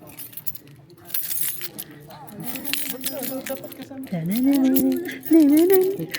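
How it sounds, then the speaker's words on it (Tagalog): A bunch of keys jangles intermittently during a crowded baptism gathering, with people talking throughout and the voices partly masking the light metallic rattling. "Yung susi mo. Susi."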